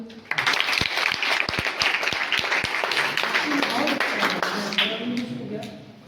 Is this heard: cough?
no